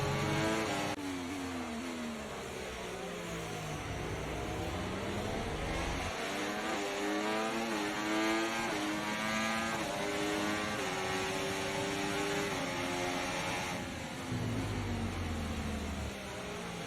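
Formula 1 cars racing in the F1 24 game, engines whining loudly and continuously, pitch sweeping up and down as cars accelerate and shift, with several cars overlapping nearby and no talking.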